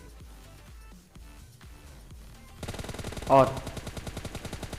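In PUBG Mobile Lite, gunfire rattles out as rapid bursts of automatic shots, quieter at first and then louder and denser near the end, with one sharp loud crack in the middle and someone talking briefly.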